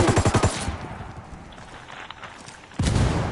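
Heavy gunfire and machine-gun bursts from a PS4 shooter game: a rapid string of loud shots opens, fades to scattered distant fire, then a big blast of fire returns at the end.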